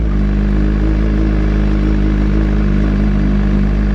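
A motorcycle pulls away in first gear under throttle, a loud close engine drone that holds steady throughout without talk.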